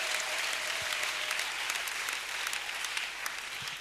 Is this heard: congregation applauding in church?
yes